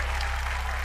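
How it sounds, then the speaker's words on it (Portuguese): A television studio audience applauds on a music talk show, a steady wash of clapping that fills the short stretch at close range with little else audible. "Aplausos gerais"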